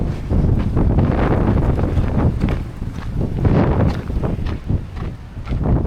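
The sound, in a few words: cold wind blowing on cliffs of Seven Sisters, South Downs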